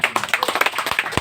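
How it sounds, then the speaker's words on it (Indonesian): Brief burst of audience clapping at an Indonesian talk event about Gus Dur, a quick irregular patter of hand claps from a small crowd, close and fairly loud. "Luar biasa, tepuk tangan sahabat-sahabat sekalian."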